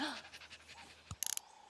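A cartoon puppy pants in quick, soft breaths, then gives a short burst of rapid, sharper puffs near the end. The sound is close and fairly quiet, and no one speaks over it.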